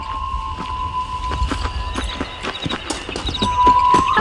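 Horse hooves clip-clop at a steady walking rhythm on a ground path in the Western game Red Dead Redemption, close and clear over faint ambient tones, picking up slightly toward the end.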